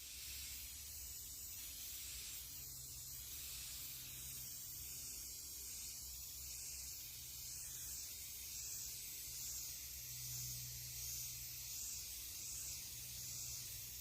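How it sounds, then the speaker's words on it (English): Chalked charcoal spray paint hisses from an aerosol can onto a decor piece, a steady soft continuous spray held for the whole stretch, fairly quiet and even. "We're going to take this chalked charcoal and just spray paint it on up."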